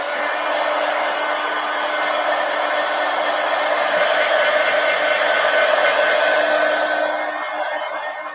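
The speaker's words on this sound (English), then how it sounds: "I know I'm talking over my heat gun." A heat gun blows steadily while drying a freshly glued collage poster, a continuous loud whooshing hiss with no voices, running alone for the whole stretch before easing slightly at the end.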